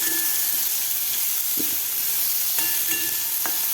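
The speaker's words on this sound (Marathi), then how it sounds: "कांदासुद्धा आपल्याला थोडासा गुलाबी कलर होईपर्यंत परतून घ्यायचा आहे" Chopped medium onion sizzles in hot oil in a pan, a steady bright frying hiss with occasional scraping and stirring knocks from a utensil, close and continuous, no voices.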